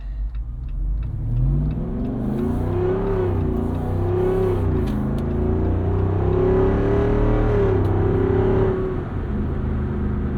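A 2024 Jeep Wrangler 392 Rubicon with its Hemi V8 revs hard on the move, a loud, steady engine drone rising and falling in pitch for the whole stretch, with no voices.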